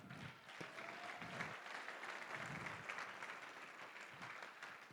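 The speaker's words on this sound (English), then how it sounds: "Again, a round of applause, please." Steady applause from a gala audience at a charity event, soft and distant, continuing evenly without a break.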